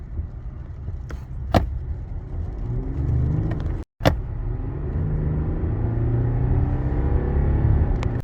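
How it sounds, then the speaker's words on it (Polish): A BMW 740d xDrive G70 with a 3.0 inline-six diesel kicks down and accelerates hard, its deep engine rumble rising steadily through the gears from inside the cabin, broken by a brief cut and a couple of sharp clicks. "Mamy zredukowany bieg i momentalne przyspieszenie."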